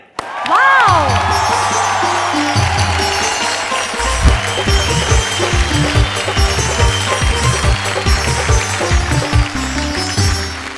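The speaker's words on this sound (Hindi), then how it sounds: "भाई आपकी तालियों को रोकिए मत" An audience at a Hindi-Urdu comic poetry show claps and cheers loudly and continuously beneath a bright musical fanfare with a thumping rhythmic beat.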